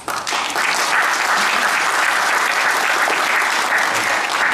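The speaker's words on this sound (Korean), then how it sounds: "여러분 뜨거운 박수 환영합니다." A crowd at a Korean memorial ceremony for patriotic martyrs breaks into loud, dense applause of welcome that holds steady throughout, with no voices over it.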